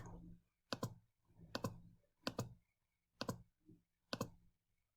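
Number keys pressed on a graphing calculator keypad give five sharp, close clicks at a steady pace, with a quiet voice murmuring in between.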